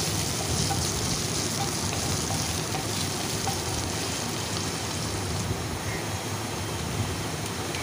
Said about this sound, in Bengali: ফোড়নটাকে একটু লো ফ্লেম রেখে ভাজতে থাকছি